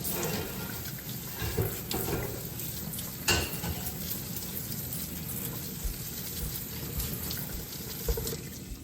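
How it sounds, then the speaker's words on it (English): Garlic scapes are rinsed under a running kitchen tap, a steady, close rush of water that continues throughout, with a few soft handling bumps mixed in. "I am going to rinse my scapes."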